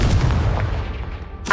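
Confringo blasting spell from Hogwarts Legacy, a loud, sustained booming explosion with heavy low rumble that slowly fades, then a sharp new burst right at the end.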